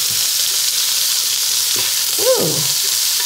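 Bell peppers and potatoes fry in an oiled nonstick pan, a steady bright sizzle throughout with a brief faint voice-like sound near the end.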